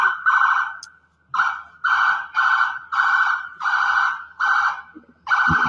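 An ambulance siren sounds at an emergency scene outside a building. It blares loud and close in a series of repeated wailing bursts with short gaps between them.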